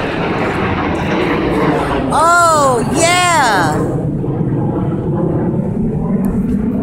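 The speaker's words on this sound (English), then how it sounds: "Those were two military jets in formation." Two military jets pass overhead in formation, a broad roaring rush that swells and fades with a sweeping Doppler tone, while a person exclaims briefly over it.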